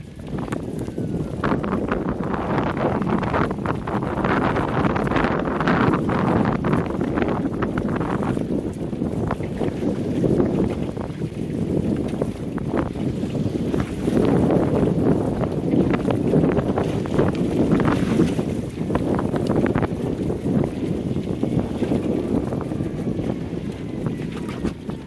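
Strong wind buffets the microphone aboard a Welsford Navigator sailboat on Duluth Harbor, a constant roaring gust noise with water rushing against the hull and occasional creaks and knocks throughout.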